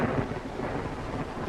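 A rainstorm outside an old house, heavy rain with a deep rumble of thunder rolling through, dense and fairly loud over a short stretch without speech.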